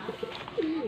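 Soft pigeon coos in a few short notes, one longer rolling coo midway, heard fairly close over faint background noise.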